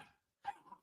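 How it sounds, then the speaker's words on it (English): A dog barks twice in quick succession, a short close yap followed by a softer second bark, indoors and with no talk over it. "stop barking"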